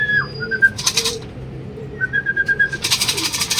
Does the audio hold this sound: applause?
no